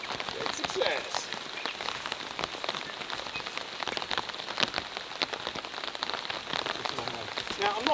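Heavy rain drums steadily on an air tent and a car at a campsite, a dense, close patter of drops with sharper individual hits, continuing unbroken throughout.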